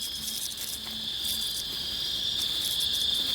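Crickets chirp steadily in a nature setting, a high, continuous trilling that stays loud and constant throughout, with a faint low pulsing underneath.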